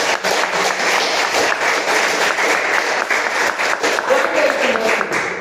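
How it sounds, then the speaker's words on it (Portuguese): A church congregation applauds during an evening Portuguese-language service, loud close clapping and crowd noise filling the whole moment, with some voices mixed in. "Você pode aplaudir ao Senhor aí nessa noite?"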